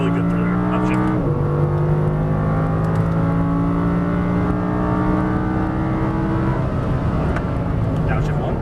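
An Audi R8 sports car accelerates hard on a race track, its engine note climbing steadily through the gears with a brief shift break, loud and continuous from inside the car.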